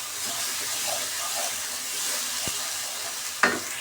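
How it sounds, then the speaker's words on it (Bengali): Spice paste with salt fries in a pan for a prawn and winter vegetable curry, giving a continuous close sizzle with light stirring and two sharp utensil clicks. "লবণটা দিয়ে মশলাটা সুন্দর করে ভাজা ভাজা করে নিতে হবে"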